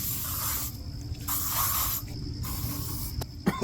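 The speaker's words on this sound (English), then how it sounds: "A little bug spray for good measure." Bug spray hissed from an aerosol can outdoors near a frost-free yard hydrant, three close bursts of spraying separated by short pauses.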